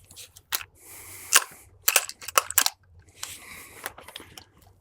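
Metallic clacks and rattles as a pistol slide is racked several times to clear a malfunction during one-handed gun-handling training, sharp close transients scattered among brief scraping noises.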